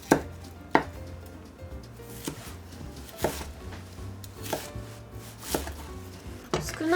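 Knife chopping an onion on a cutting board, with its core removed, for minced chicken meatballs: about eight sharp, evenly spaced chops over a low steady hum, close and fairly loud, with no talking.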